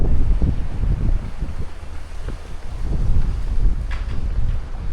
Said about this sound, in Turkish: Bayraktan da rüzgarın şiddetini anlayabilirsiniz.